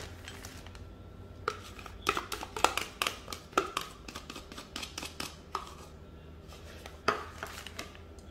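Stirring sugar into a mixture for baked bánh bò, giving irregular clinks and taps of a utensil against the bowl over quiet background, with no voices.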